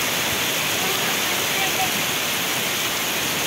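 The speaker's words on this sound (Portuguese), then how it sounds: "De repente começou a cair essa chuva aqui, gente." Heavy rain pours down during a storm in Ubatuba, a loud, dense, unbroken roar of falling water close by that holds steady throughout.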